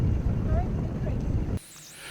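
A motor cruiser's engine is revved on the Norfolk Broads, a low rumbling drone churning under wind buffeting for about a second and a half, then cutting off abruptly to quieter background.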